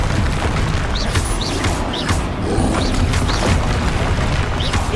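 Repeated spell blasts from Bombarda in Hogwarts Legacy, a string of loud booming crashes with sharp whooshing accents recurring about every half second over a dense, busy game soundscape.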